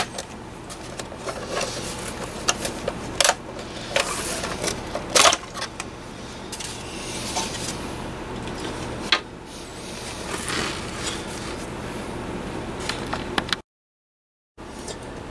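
Top cover lifted off a small multichannel electronic unit after its screws are removed, giving scattered close metallic clicks, scrapes and clanks over a quiet room background.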